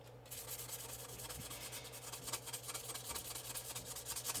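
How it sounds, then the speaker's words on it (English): Steady, rhythmic rasping of sandpaper working glaze off a ceramic mug, close and fairly quiet, with brisk back-and-forth strokes and no talking. "And you see it actually sands off rather quickly."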